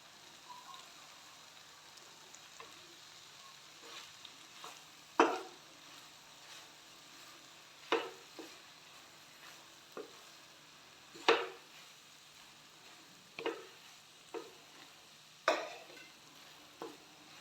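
Dry macaroni tipped into a pan and stirred, giving soft scraping and rustling with a faint steady sizzle, broken by a series of sharper clatters and taps spaced a second or two apart.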